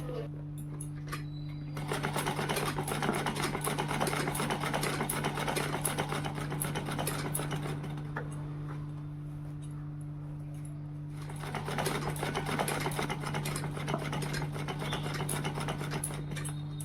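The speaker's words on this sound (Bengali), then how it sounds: "এই যে সেলাই করতে বসেছি" A home sewing machine runs in two long stretches with a short pause between, giving a steady mechanical whir and rapid needle clatter over a constant electrical hum.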